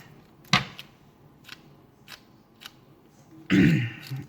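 Cutting excess material off a crescent moon mold with scissors, a few sharp isolated snips spaced about half a second apart, followed by a louder rustling cut near the end.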